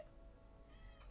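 A male cat meows once, a short, faint call near the end of a quiet indoor moment, with no talk over it.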